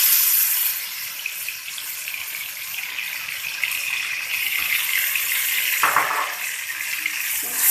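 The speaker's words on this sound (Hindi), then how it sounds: "तो देखिए मसाला हमारा अच्छे से भून रहा है" Onions and yogurt masala fry in a pan with a steady hiss of sizzling, briefly louder at the start, and a few scraping stirs near the end.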